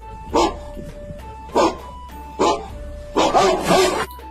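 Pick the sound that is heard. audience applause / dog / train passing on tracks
dog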